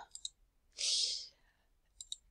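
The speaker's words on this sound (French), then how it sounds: "je clique sur le bouton Add" Computer mouse clicks while working in the PubMed database search page: a couple of small, crisp double clicks at the start and again near the end, with a soft breathy hiss in between, close and quiet.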